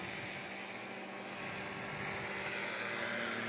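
At a STOL competition, a short-takeoff airplane engine roars at full throttle, a loud continuous propeller drone with a steady tone that grows slightly louder over a few seconds, with no talk.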